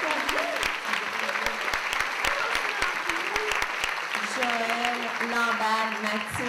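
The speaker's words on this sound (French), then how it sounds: "une bonne main d'applaudissements pour nos animateurs" A school audience at an end-of-year show claps steadily and loudly for the animators, with dense, continuous applause. A voice speaks over the clapping.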